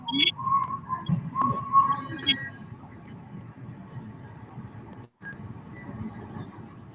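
Someone whistles a short, bright melody, several high clear notes near the start, then a faint lingering tone over low background hum during a livestream.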